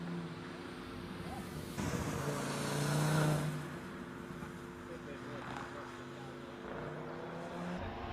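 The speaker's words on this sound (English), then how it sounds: "the Mazda MX-5, charging through the finish line" Mazda MX-5 race car crossing the finish line at a hillclimb at Loton Park, a distant engine swelling briefly and fading under a continuous commentator's voice over a public address system.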